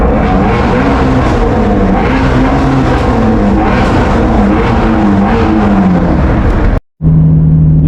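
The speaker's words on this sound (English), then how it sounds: "Oh, that's you downshifting?" Ford Mustang Shelby GT350 engine heard from inside during a ride along, a loud continuous roar whose pitch rises and dips through downshifts, cutting out abruptly near the end before resuming at a lower steady tone.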